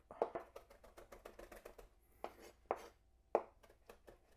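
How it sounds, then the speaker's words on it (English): Fresh basil chopped on a board with a chef's knife in a home kitchen: a quick, soft rapid series of blade taps, then a few slower, sharper chops, close and quiet with no talking. "I'm just going to chop it up."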